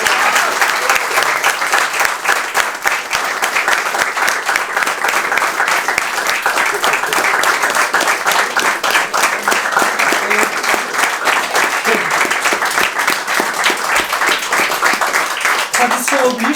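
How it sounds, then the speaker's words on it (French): A theatre audience gives a thunderous, sustained round of applause for six actors after a play, many hands clapping loudly and evenly from start to finish, with voices faintly mixed in. "Je vais vous demander un nouveau tonnerre d'applaudissements pour les 6 merveilleux comédiens"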